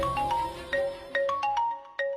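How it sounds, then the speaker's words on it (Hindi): A mobile phone rings with a melodic electronic ringtone. The short tune of bright beeping notes repeats in regular phrases, clear and alone, with no voices over it. "पापा का नाम लिया और उन्हीं का फोन आ गया।"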